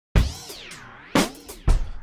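Kontakt 6 instrument notes shaped by an LFO modulation curve: three struck tones, each starting with a sharp attack then warbling in pitch with a swooping, wavering sweep, fairly loud and dry, no voices.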